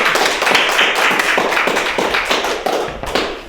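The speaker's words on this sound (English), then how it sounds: "I would like to clap for them, and I know you would like to join me to clap for them." An audience claps for musicians after a performance of Nigerian folk music, a short burst of close, rapid hand claps at steady volume with no talk.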